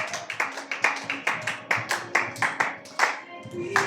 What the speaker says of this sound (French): Est-ce que tu peux acclamer Jésus très fort?